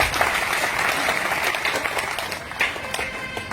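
A crowd at a political rally gives loud, sustained applause, dense clapping filling the whole stretch with a few sharper bursts near the end and no talk over it.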